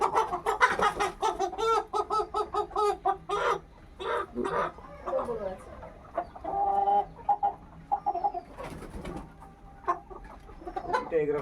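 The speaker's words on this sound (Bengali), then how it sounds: "মুরগির ফার্মে চলে এসেছি মুরগি নিতে সকাল সকাল।" Chickens at a poultry farm cluck and squawk in loud, busy bursts close by, with a rooster's crow mixed in among the flock noise.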